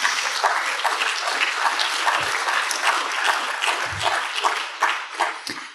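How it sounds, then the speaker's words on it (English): Sustained applause from an audience at an award presentation during a scientific society's annual meeting, steady dense clapping for about six seconds with a few low thumps, no talk over it. "Please clap as he comes"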